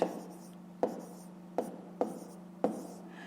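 Numbers handwritten for a column subtraction in a fifth-grade maths exercise: five crisp, close strokes at uneven intervals over a steady low hum, fairly quiet, with no talking.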